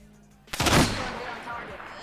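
A single sharp gunshot rings out in a first-person shooter game, loud and sudden, and trails into a short fading rumble over quiet background sound.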